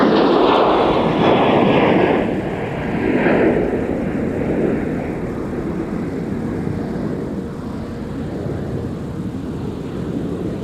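A jet airliner roars down runway 30 left at Minneapolis–St. Paul airport on a winter day, a loud broad engine rumble that is strongest at the start and then settles into a steady, slowly fading roar as it climbs away.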